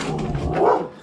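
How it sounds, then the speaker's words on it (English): A pet dog barks and yips excitedly outdoors, several quick close barks running together in a short, loud burst. "my dogs are going crazy"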